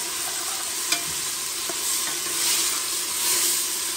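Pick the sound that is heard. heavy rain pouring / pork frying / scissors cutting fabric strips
pork frying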